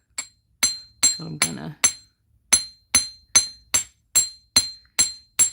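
A chasing hammer strikes a metal jewelry piece on a hard block about a dozen times in a steady rhythm, each blow a bright ringing clink, close and loud, with a brief spoken remark between strikes.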